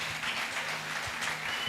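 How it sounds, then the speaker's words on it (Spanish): Audience applause at a morning talk, a dense, even wash of many hands clapping that holds steady for a couple of seconds without a voice over it. "Gracias por ese aplauso en esta mañana."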